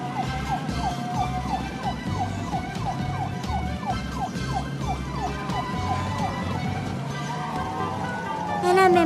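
An ambulance siren wails in a cartoon, a repeating rising-falling tone over road traffic noise and a moving car, with voices and other sound effects mixed in.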